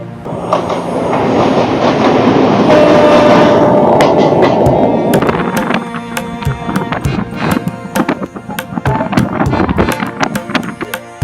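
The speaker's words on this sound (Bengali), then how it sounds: "সামনে আসছে আমতা হাওড়া লোকাল, এখানে হবে একটা ক্রসিং।" An Amta-Howrah local train passes loudly at a crossing: a heavy roar builds and fades over several seconds, followed by rapid rhythmic clickety-clack of wheels over rail joints, close and with no voices.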